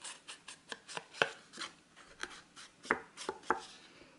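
A small piece of kraft paper is cut by hand for a scrapbooking album, with about a dozen crisp, close cutting strokes in an uneven rhythm in a quiet room.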